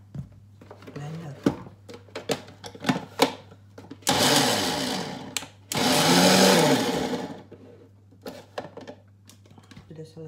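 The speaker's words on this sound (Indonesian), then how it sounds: "Kemudian kita blender." An electric blender whirs through turkey mojo sauce ingredients with olive oil, two loud sustained bursts of a couple of seconds each, framed by clicks and clatter of handling the appliance, with someone speaking around it.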